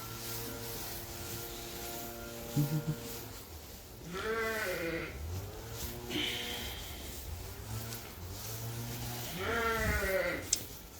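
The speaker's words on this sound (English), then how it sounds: "There was a sheep in here yesterday that I just wanted to check on." Several sheep bleat in a farm shed, long wavering calls rising at intervals over a low steady hum, fairly close, with a faint snort and no talk.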